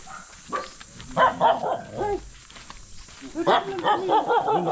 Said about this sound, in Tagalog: Aso dito.